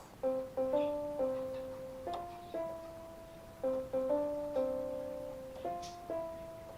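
A short sequence of piano notes, played singly and in small groups, each ringing and fading, with a steady, unhurried rhythm and no voices.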